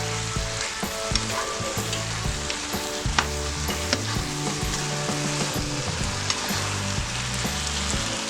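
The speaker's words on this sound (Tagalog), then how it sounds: "This time, haluin naman natin siya para maging fair yung pagkaluto niya." Pork belly sizzles and spatters steadily in a hot pan while being stirred, a dense continuous frying crackle with small scraping knocks from the stirring, close and alone with no talk.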